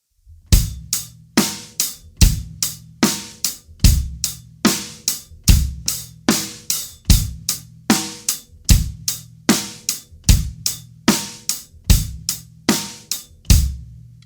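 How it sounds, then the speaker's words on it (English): A drum kit plays a steady basic rock beat, with hi-hat, kick and snare repeating evenly and crisply for about fourteen seconds, loud and alone. "So the basic rock beat that's going to be playing for the start of every exercise sounds like this."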